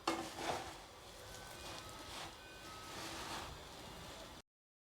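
Two large spoons stirring a puffed rice ladoo mixture, giving a steady rustling, scraping texture that runs close and moderately loud for about four seconds with no voices.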